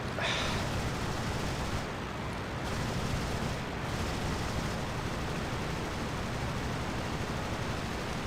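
Machine gun fire from an S.E.5a biplane in the Rise of Flight World War I flight simulator, a loud, continuous dense roar of rapid shots mixed with engine noise, steady throughout with brief dips in the highs.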